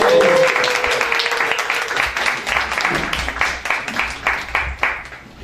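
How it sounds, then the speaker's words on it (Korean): An audience at a Korean political talk concert claps warmly to welcome a journalist guest, steady dense clapping for about five seconds that thins into scattered claps at the end. "우리 고재열 기자님 박수"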